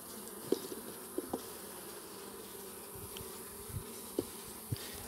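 A steady insect drone of many honey bees humming together at an open hive, low and continuous, with a few faint clicks and knocks scattered through it.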